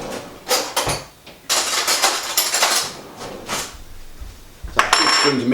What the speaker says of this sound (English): So 2 spoons to mix it all up.